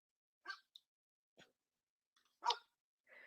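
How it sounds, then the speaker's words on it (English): A few scattered, quiet barks from a dog, separated by silent pauses, with a sharper yelp near the end. "She doesn't even usually bark, so it's funny that this happened."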